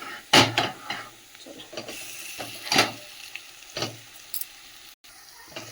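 Mashed potato frying in a pan with browned onion, ginger and garlic, a soft sizzle under repeated clacks and scrapes of a spoon mashing and stirring, close by.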